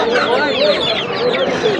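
Chickens and other fowl at a big poultry market in Korotia, continuous dense clucking and chatter from many birds close by, with crowd voices mixed in throughout.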